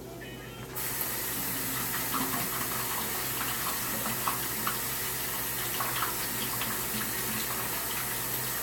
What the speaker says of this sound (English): So I'm just running these under some cold water, kind of rinse off the brine that they were in.